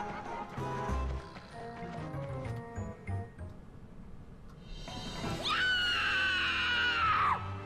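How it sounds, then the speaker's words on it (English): A character screams in the video game Atelier Lydie & Suelle, a long, loud high-pitched wail rising near the end after a stretch of game music and effects. "Was that Lucia screaming now?"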